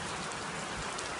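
Steady rain showers down during a cold water challenge, a dense, even hiss of falling water and splashing drops close by, with no breaks.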